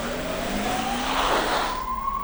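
An ambulance speeds along a road with its siren wailing in a steady rising tone, passing close by over a broad rush of engine and tyre noise.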